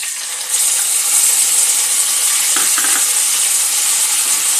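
Tempering spices with broken dried red chillies sizzle in hot oil in a pan for a paneer curry, a steady loud frying hiss with a couple of brief clinks partway through.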